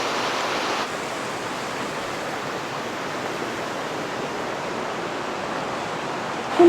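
A water wheel churns and splashes to aerate a trout fishing pond, giving a steady, close, rushing wash of water that holds constant throughout with no voices.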